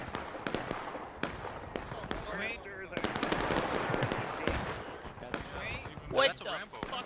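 Rapid rifle volleys in a Civil War-era battle game, War of Rights, with repeated sharp crack-like shots scattered through the clip over a busy background, while players talk over voice chat.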